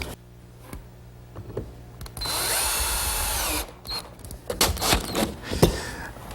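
A power drill drives screws into the wooden frame of a library ladder, with one steady whir of just over a second near the middle, framed by clunks and handling knocks.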